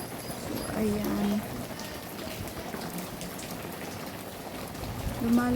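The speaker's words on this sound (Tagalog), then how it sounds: "Lumalakas talaga ang ulan." Steady heavy rain hisses and patters continuously, with a faint tonal sound briefly rising in the middle and again near the end.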